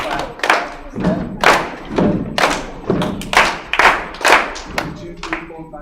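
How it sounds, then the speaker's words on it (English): Rhythmic thuds of stamping feet mixed with sharp hand claps, close and loud, repeating in an uneven pattern. "Step, clap, step, step, clap, clap, clap, step."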